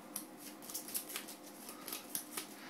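Playing cards are slid out of a hand and grabbed, making a quick run of soft, crisp card flicks and snaps that sound close and quiet.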